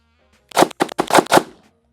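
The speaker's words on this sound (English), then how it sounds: "We're gonna do 5 quick shots." Five quick pistol shots from a double-stack 1911 crack in fast succession within about a second, loud and sharp, with no talking.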